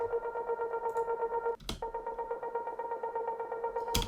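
A plucked synth texture from the Flex 2 plugin plays a sustained, echoing progression of background plucks in an electronic track breakdown, steady and soft, broken by two brief sharp transients.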